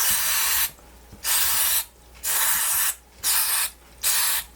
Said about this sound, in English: I have my favorite contact cleaner and I'm gonna just spray it